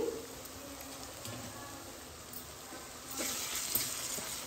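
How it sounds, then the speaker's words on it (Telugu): Ginger garlic paste and curry leaves frying with onions in a pan, a soft, steady sizzle with occasional stirring scrapes, close but fairly quiet, swelling louder near the end. "అలానే ఒక స్పూన్ అయితే అల్లం వెల్లుల్లి పేస్ట్ అయితే వేస్తున్నాను. వేసి కలుపుకోవాలి."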